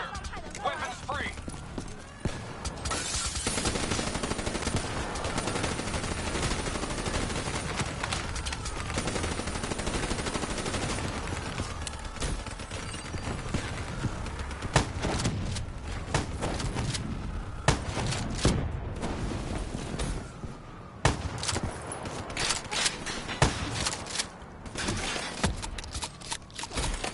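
Sustained Call of Duty: Black Ops 3 gunfire, dense bursts of shots running almost the whole stretch with sharp cracks standing out near the end, mixed with game noise and voices talking over it.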